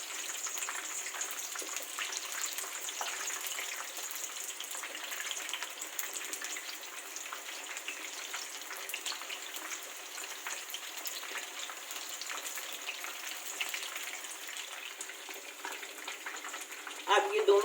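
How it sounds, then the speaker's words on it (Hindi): Delhi Jama Masjid–style chicken pieces frying in oil, a faint, dense crackling sizzle that holds steady throughout, heard alone. "अब ये दोनों साइड से फ्राई हो चुके हैं"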